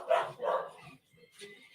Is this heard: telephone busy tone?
no